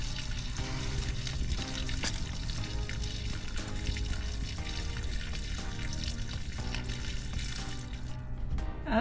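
Water pours steadily out of the plumbing of a Grand Design 2800BH travel trailer during winterizing. The drain runs loud and unbroken, close by, for the whole stretch, with no talking.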